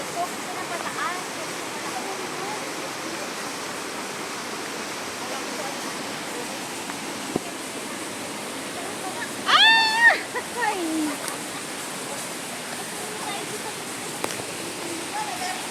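Water rushes steadily in a forest, a constant broad hiss like a nearby waterfall, with a brief bird call and faint voices partway through.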